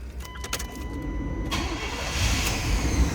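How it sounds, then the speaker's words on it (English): A 1992 Chevrolet K1500 regular cab 4x4 pickup cranks over and fires up, then settles into a loud, rough, steady idle close by, with no talk. "let's go ahead and fire this up"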